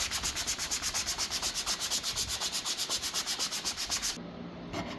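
Sandpaper rubs back and forth over a carved wooden guitar neck in quick, even strokes, close and rhythmic for about four seconds before stopping.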